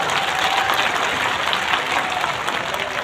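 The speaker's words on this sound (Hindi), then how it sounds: "जोरदार ताली के साथ," Crowd at an outdoor BJP election rally in Bhadra breaks into steady, dense applause, loud and continuous throughout with no pauses.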